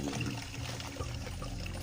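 Water pours steadily into a container, a continuous splashing rush with no talking.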